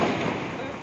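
A firecracker set off during an Independence Day celebration, heard as a dense, crackling burst that fills the short moment at close range, with voices talking over it.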